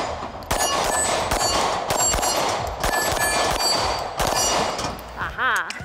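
Smith & Wesson M&P M2.0 compact pistol fired at an outdoor range, a handful of sharp, loud shots spaced roughly a second apart with ringing metallic clangs, and a voice faintly heard near the end.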